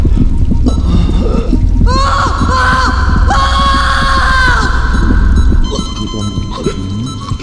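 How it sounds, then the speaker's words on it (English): Screaming and splashy, gurgling horror effects from the sci-fi horror PC game Stasis during a spinal surgery scene, a loud cry rising in the middle over a dense rumbling background. "I heard screaming!"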